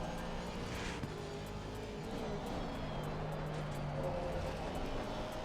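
Race car engine in a racing video game at Brands Hatch, a steady distant drone with a faint pitch rise while accelerating, heard with no talk.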